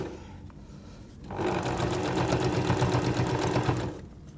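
A sewing machine stitches binding around the edge of a quilt through several layers, starting after a quiet second and running steadily and fairly loud for about two and a half seconds before stopping.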